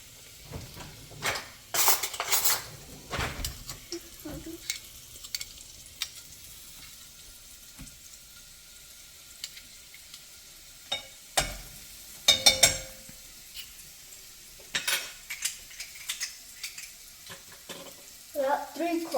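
Garlic frying and being stirred in a pan while cooking egg hakka noodles, Indian street-food style, with intermittent sizzling and scraping bursts between quieter stretches.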